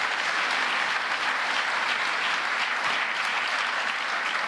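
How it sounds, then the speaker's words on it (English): Sustained, even round of applause from a large audience at a global business forum, a steady wash of clapping from many hands heard from a distance, with no talk over it. "he deserves a round of applause for that"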